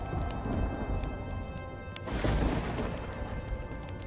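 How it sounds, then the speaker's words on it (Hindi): Cartoon storm effects, with rain hissing under a steady musical drone, then a sudden broad crash of thunder about halfway through that swells loudly and slowly fades into the rain. "और जोर जोर से बिजली कड़कने लगती है।"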